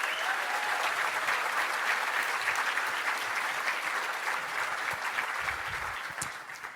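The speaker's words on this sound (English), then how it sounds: "round of applause for all the nominees" Sustained applause from an audience at a law enforcement awards ceremony, honoring sheriff's deputies nominated for a Life-Saving Award; steady, dense clapping that fills the room throughout and tapers slightly at the end.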